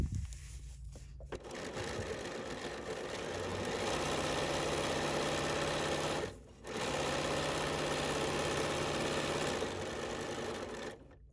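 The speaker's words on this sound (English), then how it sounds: "I'm going to sew just here to get to the next dotted line" A sewing machine stitches along a dotted line on quilt fabric, running steadily and close in long stretches with short stops between.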